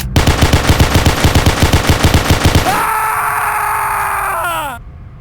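Loud rapid automatic gunfire in a Garry's Mod horror map game fires a fast regular burst for under three seconds, then gives way to a sustained ringing electronic tone that fades out.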